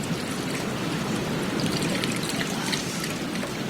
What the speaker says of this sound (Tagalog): At magbubuhos na ako sa tubig ng imbento kong likido.